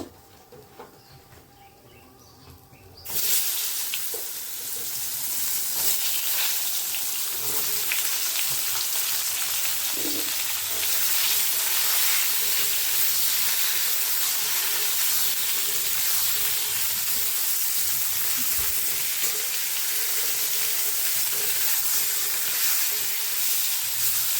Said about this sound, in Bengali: এই তেলেই পটলটা আগে একটু ভেজে নেব।